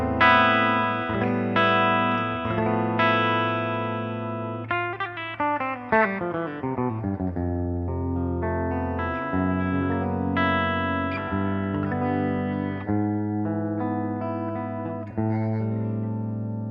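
Gibson Les Paul style electric guitar on a clean tone, played alone with plucked single notes and chords ringing out, including a descending run, moderately loud and steady.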